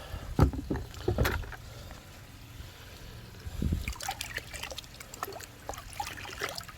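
Water is poured and sloshed into a pot to mix pond dye, with irregular splashes and dribbles close by, a few louder thumps early on and softer trickling toward the end.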